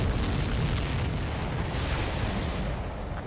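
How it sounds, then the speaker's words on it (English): A supply ship blows up in the Ace Combat 7 video game, giving a dense, sustained rumbling blast that fills the whole few seconds with no talk. "Did you see that explosion? Looks like that's one of them down."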